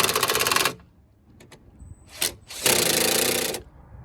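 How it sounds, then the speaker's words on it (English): Two 10mm bolts on a BMW E90 328i N52 airbox are tightened with a ratcheting power tool, heard as two loud buzzing bursts separated by brief clicks and a short pause, close up. "the last thing to do is just tighten these two 10mm bolts"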